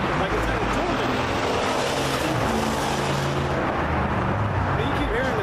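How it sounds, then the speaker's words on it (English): Trucks driving by on a street, a continuous loud broadband traffic rumble with engine drone, steady and close throughout. "you keep hearing that today, man. All these trucks going by"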